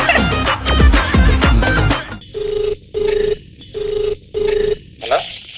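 A telephone rings in repeated bursts with short gaps after a stretch of loud, busy studio sound, clear and prominent.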